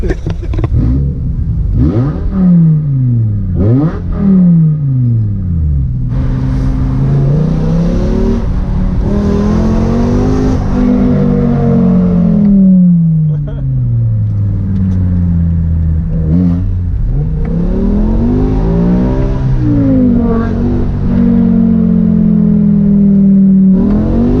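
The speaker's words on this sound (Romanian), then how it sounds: "S-a dus tare în ture fără să schimbe." A new BMW M5 engine revs hard and high without shifting gears, a loud, sustained roar that climbs and falls repeatedly in pitch, heard close throughout.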